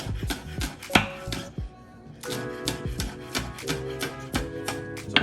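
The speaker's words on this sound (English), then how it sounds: "Go ahead and get it finely chopped up." A knife finely chopping green onions on a cutting board, rapid steady taps close by with a brief pause in the middle before the chopping resumes.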